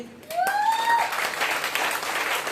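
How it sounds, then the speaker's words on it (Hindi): Audience applause breaks out after a short rising whistle-like tone, a dense wash of clapping that holds steady for over a second to the end. "तो आपकी जोरदार तालियों में सीट ग्रहण करेंगे।"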